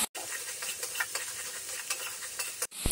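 Spice paste (masala) being stirred in a pan while frying for a Bengali mankochu stem curry, a steady scraping and stirring with continuous sizzle, close and fairly quiet, with no talking.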